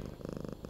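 A person imitating a cat's purr with a soft, rapid rhythmic rumble that pulses steadily for under a second, close and quiet, with no talk over it.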